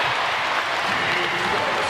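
College basketball crowd at a Tennessee Volunteers vs Florida Gators men's game cheering and applauding, a dense, steady roar of clapping and voices filling the arena, with a commentator talking over it.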